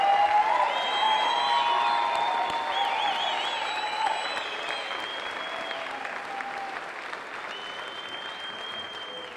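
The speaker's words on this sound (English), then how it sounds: "Would you like to cheer for all the graduates one more time?" Audience at a university graduation ceremony applauds the graduates steadily throughout, a dense wash of clapping with a few higher cheers and whoops, fading slightly toward the end.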